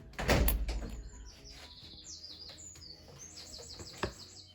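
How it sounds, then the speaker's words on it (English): Birds chirp in short, high bursts through the background, with a louder thump and shuffle near the start and a brief knock toward the end. "Oh, listen to the birds."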